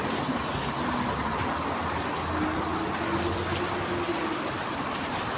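Steady early-morning rain falls outdoors near a wooden crossing, a dense, even hiss of drops on surfaces lasting throughout with no pauses.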